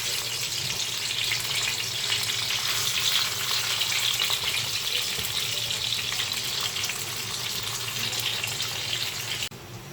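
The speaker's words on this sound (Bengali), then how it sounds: "মাছটা হালকা একটু ভাজি করে নিব" Folly fish frying in oil in a pan, giving a steady, loud sizzle and crackle that holds evenly throughout with no talking.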